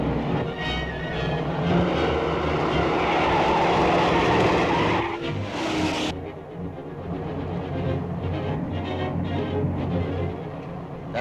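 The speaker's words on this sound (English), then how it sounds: "That car in back of us seems to be sticking on our tail." A 1930s car tears along with tires skidding and squealing, a loud engine roar and screech that cuts off abruptly midway, followed by a steadier rumble of the car still driving.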